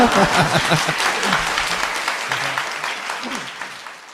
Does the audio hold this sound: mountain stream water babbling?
no